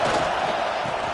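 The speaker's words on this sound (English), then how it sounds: "This crowd ready to make its presence known." A large stadium crowd roars and cheers at an American football game, a dense steady wash of voices with no clear breaks throughout.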